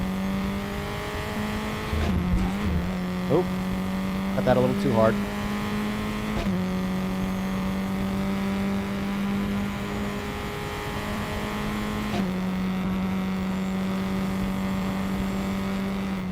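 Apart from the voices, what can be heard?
race car engine in the RaceRoom video game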